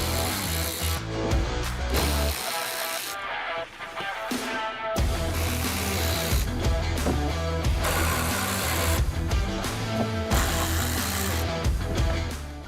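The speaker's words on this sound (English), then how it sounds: "To access the headlight connector, we're going to remove 5 T15 Torx screws." A power driver backs T15 Torx screws out of the fender liner of a 2019-or-later Chevrolet Silverado or GMC Sierra 1500, several short whirring bursts separated by brief pauses, close and loud, with no talking.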